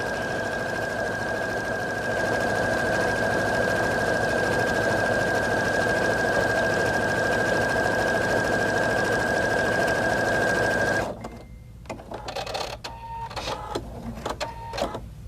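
A sewing machine runs steadily, sped up, as it stitches a quilt-as-you-go seam with the presser foot edge following the seam line. The loud, continuous motor hum with a rapid stitching rhythm lasts about eleven seconds, then gives way to quieter, broken clatter.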